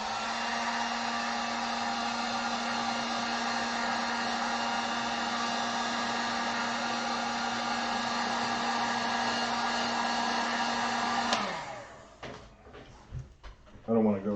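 A hair dryer blows steadily at close range to dry acrylic ink, with a constant whirring hum for about eleven seconds before it switches off and winds down, followed by a few handling clicks and bumps.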